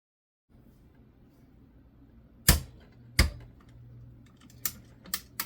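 A torque wrench tightening an AR15 buffer tube, with faint ratcheting under low background noise followed by two sharp loud clicks and then several lighter quick clicks close by.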